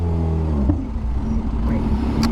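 A Kawasaki Z H2 naked motorcycle revving close by, its loud engine surging and climbing in pitch with a harsh, throaty roar in a street setting, with no talking over it.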